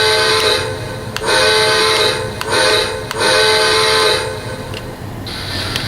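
A Lionel LionChief Polar Express 1225 model train sounds its whistle in repeated long, loud multi-tone blasts with short gaps between them, over steady mechanical hum.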